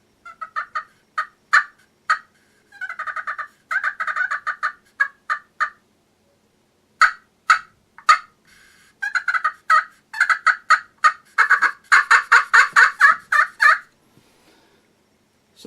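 Handheld Talon turkey call played on its small end to mimic a younger hen, giving repeated bursts of sharp, close yelps and clucks in uneven runs with short pauses, loudest and densest toward the end.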